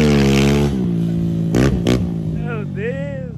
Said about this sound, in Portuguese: Bicho queimando a embreagem da moto.